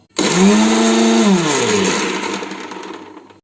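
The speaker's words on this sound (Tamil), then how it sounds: "இதை மிக்சியில் போட்டு ஜஸ்ட் ஒரு அடி அடித்து எடுத்துருவோம்" A kitchen mixer grinder loudly blends shallots, ginger and curry leaves in one short burst of whirring motor that starts abruptly, holds, then winds down as the blades slow.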